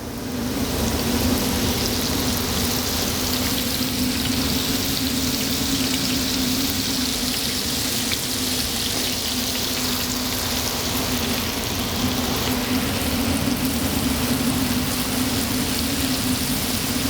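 Onions dropped into hot fat for bacon-wrapped back-strap: a steady, dense sizzle and crackle, loud and close, continuing unbroken for many seconds with no talk.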